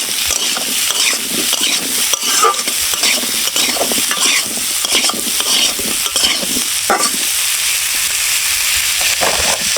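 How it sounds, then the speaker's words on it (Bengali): Potato pieces seasoned with salt and turmeric fry in a pan while being stirred, giving a steady close sizzle broken by frequent scraping and clattering strokes throughout, with no talking. "আলুগুলো সুন্দর করে ভেজে নিয়েছি"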